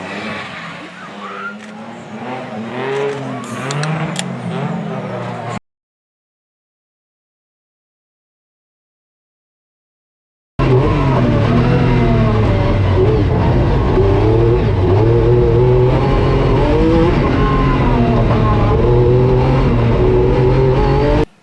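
MG Metro 6R4 rally car driving hard, loud revving engine with shifting pitch and tyre noise, broken by a silent gap before the engine roars back up and holds at high revs.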